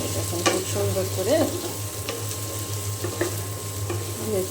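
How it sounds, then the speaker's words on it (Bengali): Vegetable bhaji frying in a pan, stirred with a utensil: a steady oil sizzle with a low hum, broken by a few scraping, clinking strokes, close and moderately loud with no talking. "তো এইখানে ভাজিটা ভাজা হয়ে গিয়েছে, আমি নামিয়ে নেব এখন"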